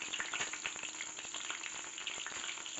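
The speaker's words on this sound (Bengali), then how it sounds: "সেদ্ধ করে রাখা ডিমটা একটু ভেজে নেব তেলের মধ্যে" Boiled eggs fry in hot oil in a pan with a steady, dense crackling sizzle, fairly close and without pause, with no voices.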